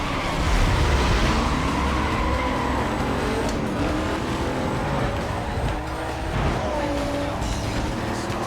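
Porsche race cars in Need for Speed Most Wanted (2005), loud engine roar with pitch sweeps as cars pass and accelerate, tire squeal mixed in, continuous and close for the whole stretch.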